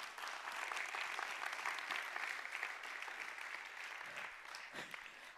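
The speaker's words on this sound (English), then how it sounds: "Round of applause for the video" An audience at a TEDx event at Wageningen University applauds in a steady, moderately loud wash of clapping that continues without pause, thinning slightly toward the end.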